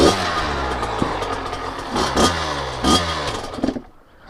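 A freshly rebuilt Kawasaki KX100 dirt bike engine runs loud and close, revving up in several rising bursts with rattly two-stroke clatter before cutting out at the end.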